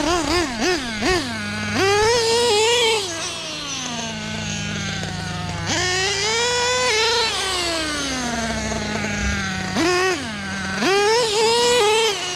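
Losi LST nitro RC car engine running after a carburetor rebuild, a high-pitched buzzing whine that rises and falls in repeated revving sweeps, loud and close, with no talking.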